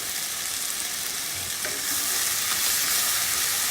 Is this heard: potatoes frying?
yes